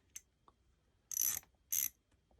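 A 1/4-inch round head ratchet with a dark chrome finish gives a faint tick or two, then two short bursts of rapid clicking, loud and close, in a quiet room.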